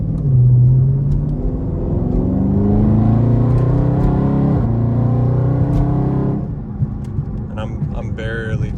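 A Dodge Charger Scat Pack engine in sport mode climbs steadily in pitch as it accelerates, a loud, close roar that fades near the end as someone starts talking.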